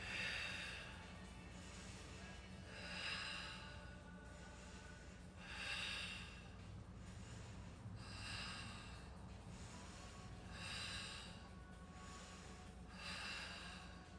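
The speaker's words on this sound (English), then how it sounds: "Four more breaths." Deep, slow breathing during a held yoga pose in a live class, each breath a broad airy rush that swells and fades roughly every two to three seconds, close and steady over a low background hum.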